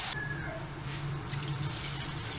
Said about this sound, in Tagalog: Tapos dagdagan po natin tubig.